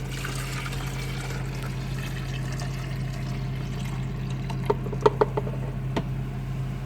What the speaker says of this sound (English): So now we take the water that we've just poured out with the descaling solution in it and just pour it